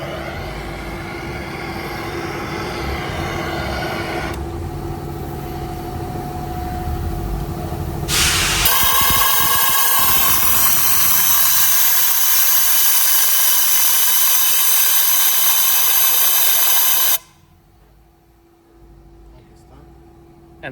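Air hisses out of the EGR cooler connection on a broken-down Mazda Skyactiv diesel, a loud steady rush heard alongside engine and workshop noise, then cutting off abruptly near the end.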